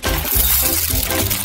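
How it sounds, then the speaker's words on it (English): Gritty, continuous crunching and grinding, steady and close, as coffee beans are crushed in a hand mill. "Now, I will manually grind them to be the desired state."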